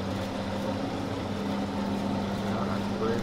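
Steady droning engine of a Massey Ferguson tractor in the Farming Simulator video game, a continuous low hum with a constant tone, loud and unbroken for a few seconds with no talk over it.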